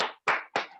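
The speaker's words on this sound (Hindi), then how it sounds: "ताली बजाने की बात है कि बताइए, अगर है तो एक बार बजा लीजिए जोरदार" Four short, loud bursts of audience clapping at a seminar, each a sharp flurry of hands that breaks off abruptly, evenly spaced and close.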